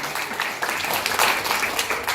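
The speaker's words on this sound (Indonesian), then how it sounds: "Tepuk tangan Bapak Ibu, luar biasa." Audience applause at an indoor business presentation, a steady wash of many hands clapping at moderate level throughout, with no clear speech over it.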